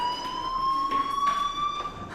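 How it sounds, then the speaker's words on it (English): Fire alarm in the game Life is Strange, a steady high electronic tone ringing continuously and loudly with faint background rustle, no speech. "Hey, do you hear that fire alarm?"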